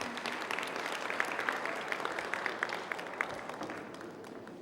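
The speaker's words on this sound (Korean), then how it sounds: "여러분 다시 한번 큰 박수 부탁드립니다" Audience applause at a science concert, steady and fairly faint, a dense patter of many hands with a few sharper claps standing out, no talking over it.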